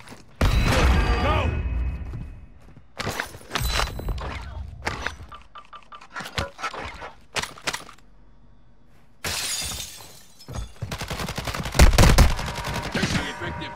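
Bursts of gunfire in Call of Duty: Modern Warfare II, with a long sustained volley, scattered single cracks with glassy shattering and debris, then a second dense volley near the end.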